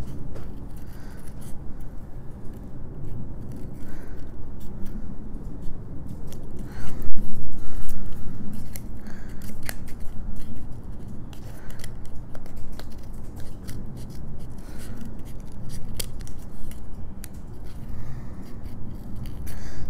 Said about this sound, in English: then I can continue to cut around this chipboard.